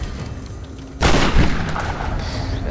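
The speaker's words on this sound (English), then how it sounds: "Shot you in the back!" Gunfire in the Tomb Raider video game, with a sudden loud blast followed by a dense run of booming shots and sustained crackling rumble that carries on to the end.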